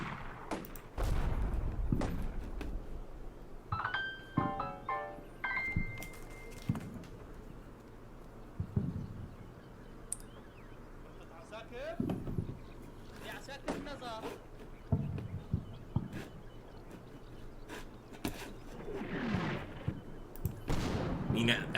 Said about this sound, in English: at least they're firing artillery at all the wrong areas